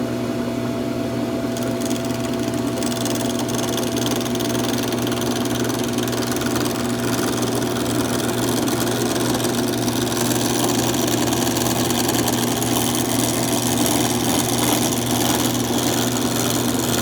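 A wood lathe spins a piece of purpleheart wood, giving a steady motor hum with a sustained tonal whine that runs evenly and fairly loud from start to end.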